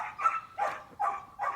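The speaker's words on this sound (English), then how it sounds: "And that's my dog barking." A pet dog barks four times in quick succession, fairly close and clear, with short sharp yips and no talking over them.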